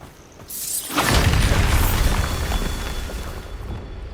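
A Bombarda blasting spell explodes in Hogwarts Legacy: a loud booming burst with a shattering crack, followed by a long rumbling decay, with no talk over it.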